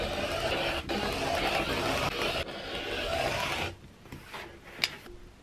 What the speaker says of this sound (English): I'm just going to trim off the sides and square up the mini quilts